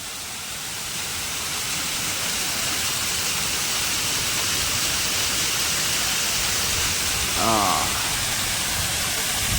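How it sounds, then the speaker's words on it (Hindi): Steady broadband roar of a Himalayan waterfall on the route to Adi Kailash, loud and continuous throughout, with a brief voice near the end. "ये रास्ते में हमें बहुत ही अच्छा, बहुत ही प्यारा झरना दिखा।"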